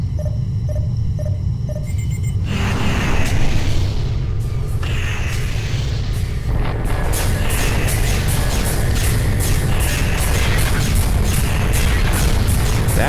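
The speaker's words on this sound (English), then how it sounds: "That is a lot of explosions." Rumbling explosions from a space battle in the Freespace video game, booming continuously and loudly throughout, with a brief series of beeping tones at the start before the dense blasts and crackling bursts take over.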